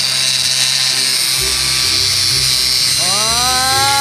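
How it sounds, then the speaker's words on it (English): An angle grinder cutting into a metal safe inside an abandoned school bus, a loud steady high whine that holds and then climbs in pitch as the disc bites, with voices talking over it. "Okay, I'm going to try the grinder now"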